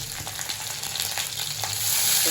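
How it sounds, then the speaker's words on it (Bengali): Garlic and dried red chillies sizzle and crackle in hot oil as green chillies are added, with steady frying hiss and a few stirring scrapes, growing slightly louder toward the end. "রসুন শুকনো লঙ্কা ভাজা হয়ে গেছে তার মধ্যে আমি দুটো কাঁচা লঙ্কা দিলাম"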